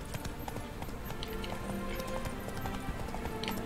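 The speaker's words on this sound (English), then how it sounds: "好吧，那只好骑马过去了。" Horse hooves gallop steadily in The Witcher 3, a continuous rapid clip-clop of a ridden mount carrying loud and close through the whole stretch, with no talk over it.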